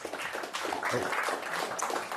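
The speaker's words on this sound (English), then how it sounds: "let's give Dylan a round of applause" A crowd at a tech showcase applauds a presenter, a continuous, fairly full burst of clapping that stays even in level throughout, with a hint of voices mixed in.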